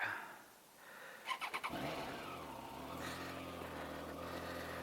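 A Triumph Trident motorcycle starts up with a few quick sputtering bursts, then settles into a steady engine drone heard from close by, with no talk over it.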